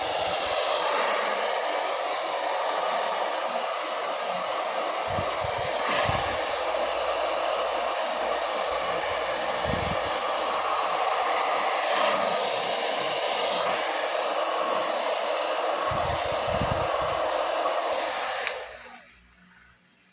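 Steady, loud whoosh of a hair dryer blowing 4C hair, running continuously for about eighteen seconds before switching off at the end, with faint handling bumps underneath.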